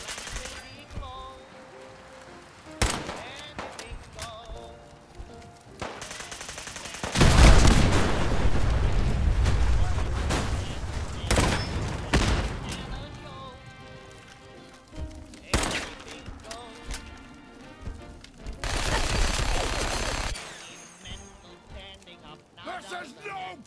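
Rapid gunfire bursts and heavy explosions from a shooting video game, loud and dense, with several blasts clustered midway and again near the end, with voices talking and shouting throughout.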